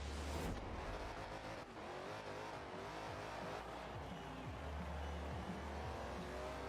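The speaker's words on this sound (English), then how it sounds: "With this rear wheel drive just ripping through tires" A rear-wheel-drive track car in a racing video game spins its tires off the line, engine roaring steadily with a gritty squeal running alongside for several seconds, loud and close with no talking.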